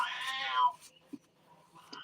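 An indoor cat lets out a short, fairly loud meow at the start, followed by faint small taps and a soft trailing murmur in a quiet room.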